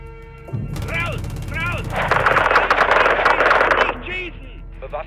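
Sustained automatic gunfire in Call of Duty: MW2 (2022), a loud dense burst lasting about two seconds mid-clip, with German radio chatter and in-game voices around it.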